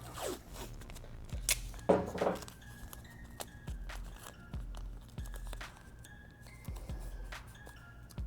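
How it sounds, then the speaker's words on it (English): Strips of painter's tape crackle, tear and rustle in short, close bursts, loudest around the second second, as a part of a 2017+ Yamaha FZ-09 is masked off for frame slider fitting; no one speaks. "my method for doing this is to use a little bit of painter's tape."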